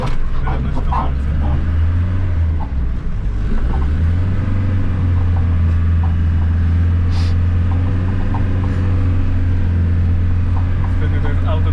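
A Mercedes T1 207D van drives along, its diesel engine a steady, loud low rumble throughout with a slight dip and rise in pitch near the start; people talk in the cabin over it.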